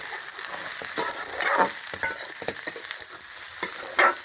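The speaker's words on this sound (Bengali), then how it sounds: "পেঁয়াজ, কলি, আলু আর ডিম, মাছের ডিম দিয়ে ভাজা করলাম" Onion stalks, potato, egg and fish roe frying in a pan, with a steady close sizzle broken by several scraping stirs of a spatula, no talking.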